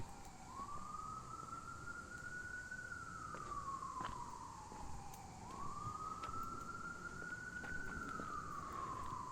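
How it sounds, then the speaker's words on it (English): An emergency vehicle siren wails outdoors in slow rising-and-falling cycles, moderately distant, over a steady high insect drone and faint background hum. "You can probably also hear the cicada and this siren."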